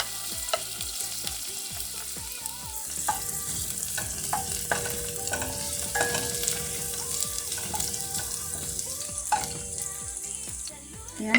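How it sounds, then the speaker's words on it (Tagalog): Garlic sizzles steadily in olive oil in a pan, a continuous crackling fry with frequent stirring scrapes and clinks of a utensil against the pan, with no voices. "hulog muna natin ang ating bawang"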